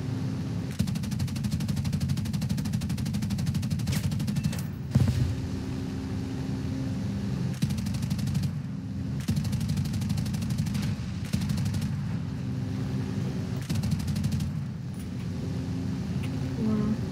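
Rapid gunfire from weapons in a video game rattles in repeated bursts over a steady engine-like drone, loud and close, with brief pauses between volleys and no talking.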